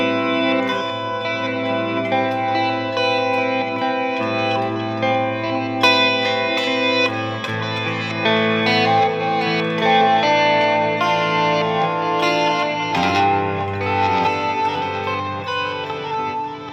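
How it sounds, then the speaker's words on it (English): Electric guitar through a TC Electronic Flashback pedal with chorus and reverb, sustained shimmering chords ringing out with a wide, wavering chorus and echoing tail, played alone without talk. "I just added some chorus to it."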